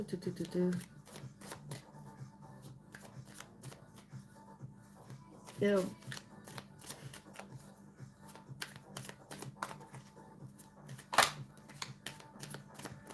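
Oracle cards are riffled and shuffled in a few quiet bursts, with a person talking softly over a low room hum.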